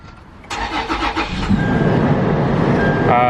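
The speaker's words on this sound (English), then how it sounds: "I'm gonna manually turn the car on." A Toyota 4Runner engine cranks briefly and catches, then settles into a steady idle rumble, close and fairly loud.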